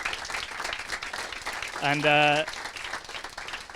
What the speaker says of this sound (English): big round of applause to our esteemed panelists